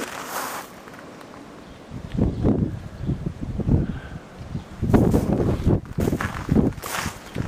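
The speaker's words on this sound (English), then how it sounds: "I know I have to apologise for the wind," Gusty outdoor wind buffets the microphone beside a RIB boat on its trailer, rumbling in loud, uneven bursts that swell and fade, with no voices heard.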